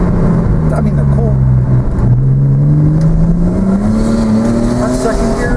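A Porsche 987.2 Spyder with PDK and a turbo setup revs hard in second gear, the engine note climbing steadily and loudly from inside the car, with people talking over it throughout.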